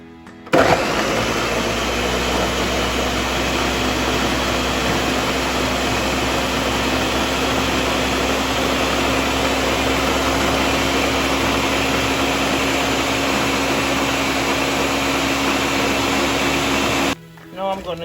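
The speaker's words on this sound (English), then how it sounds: "So I'm gonna be blending all the seasoning right now." A blender blending seasoning runs continuously at high speed, a steady loud whirring drone that starts abruptly and cuts off near the end.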